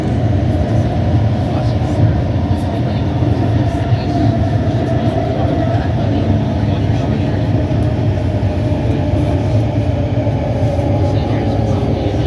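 A SkyTrain rumbles steadily along the rails between King Edward and Richmond–Brighouse with a constant low roar, loud and close, as if heard from inside a moving carriage.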